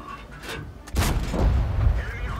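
A tank cannon firing in a video game: one sudden heavy boom with a sharp crack and a rumbling tail that lingers for over a second, under a faint voice.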